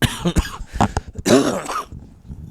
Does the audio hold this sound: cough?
yes